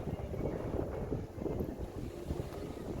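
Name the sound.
chilly wind outdoors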